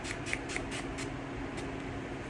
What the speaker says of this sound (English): Just got some more of this spray.